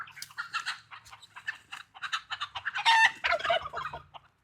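Chickens cluck and squawk continuously on a homestead as a herding dog chases them, busy overlapping calls close by with a louder burst of flustered squawking near the end.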